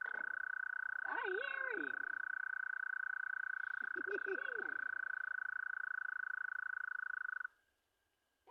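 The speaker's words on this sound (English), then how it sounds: "That's that toad." A toad croaks at night near a fishing spot, two short bursts of calls rising over a loud, steady high drone of night noise that cuts out near the end; a voice speaks briefly.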